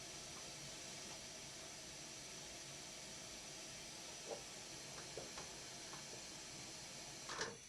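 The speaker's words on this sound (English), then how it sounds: "And pick some white noise." Broadband white noise from a VCV Rack software modular synthesizer, a steady even hiss filling the whole clip at low level, with a few faint clicks and a short louder blip near the end.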